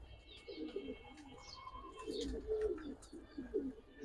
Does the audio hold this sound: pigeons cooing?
yes